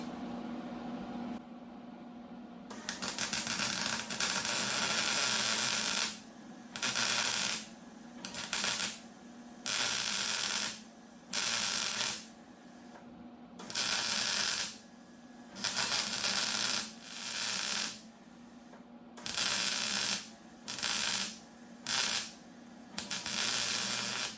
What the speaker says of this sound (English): I'm going to tack the B pillar. I'm going to weld the D pillar in place.